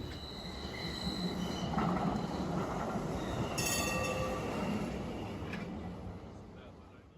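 A Calgary Transit light rail train rumbles steadily nearby at Dalhousie station with a faint metallic squeal and hum, the sound rising and then fading slowly.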